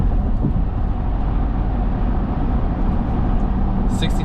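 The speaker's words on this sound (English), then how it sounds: "Let's go ahead and see how loud the interior is in this truck." Cabin noise inside a moving pickup truck, likely a 2024 Chevy Silverado HD gas V8 or Ford F250 7.3L gas V8, a loud steady low rumble of road and engine that continues without a break.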